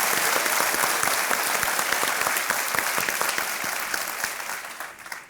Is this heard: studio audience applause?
yes